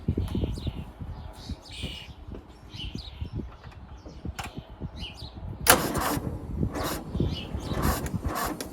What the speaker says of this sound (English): well it seems to crank, seems to wind over, but it's not happy